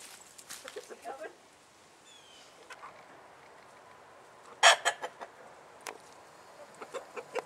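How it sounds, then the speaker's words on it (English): A farmyard rooster makes scattered clucks, some faint and one louder sharp cluster midway, with further soft clucking toward the end in a quiet outdoor setting. "There's Mr. Rooster right there."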